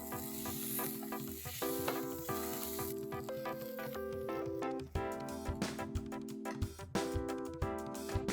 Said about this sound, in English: I'm going to toss this up and mash this with the help of a potato masher.